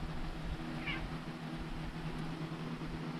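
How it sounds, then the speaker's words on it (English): A house cat gives a short meow at a moderate distance over a steady background hum, with no talking. "Cat, why are you following me?"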